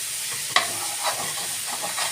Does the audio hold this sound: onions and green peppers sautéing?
yes